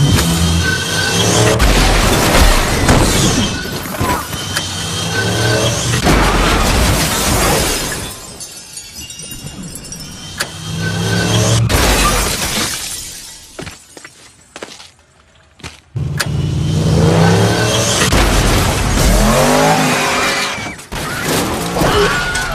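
Violent car crash from a Tarantino film starring Kurt Russell, killing five women riding in one car: repeated loud bursts of crunching metal and shattering glass, several seconds each, separated by quieter slow-motion gaps, with no talk.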